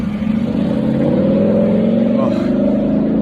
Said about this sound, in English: Why do people need to have cars that are loud like that?